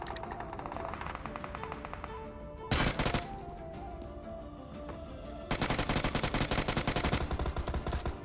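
Automatic gunfire crackles in a BGMI battle royale match as several long, rapid bursts ring out, loud and close, with a brief pause between volleys.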